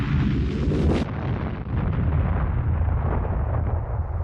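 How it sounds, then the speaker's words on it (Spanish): A huge explosion tears through the battleship Maine, a massive roar that keeps rumbling and rushing without letup, loud and enveloping, with no speech. "Una descomunal explosión había sacudido al acorazado, a estribor y a proa."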